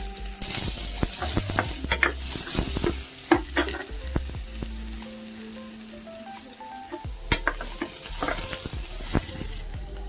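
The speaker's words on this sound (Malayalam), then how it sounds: "അതിലോട്ട് ഒരു ചെറിയ സവോള ചേർത്ത് കൊടുക്കുന്നുണ്ട്" Sliced onion sizzles in hot oil in a pan with cinnamon, cloves and cardamom for a paneer masala curry, a steady frying hiss broken by clinks and scrapes of stirring.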